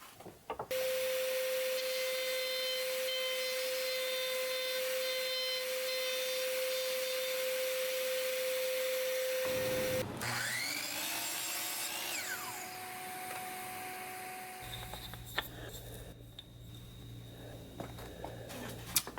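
A router rounds over the edges of wooden pegs for a ski rack, with a steady high motor whine running loud for about ten seconds, then rougher bursts of cutting and rubbing noise as the wood is worked.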